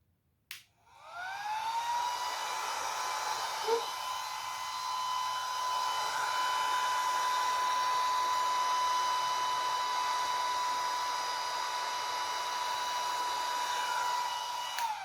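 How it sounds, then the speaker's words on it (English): A small battery-operated air pump whirs up and runs continuously with a steady high-pitched motor whine and rushing air, blowing across wet acrylic paint, close by and alone, then cuts off at the end. "I'm going to use my battery operated air pump."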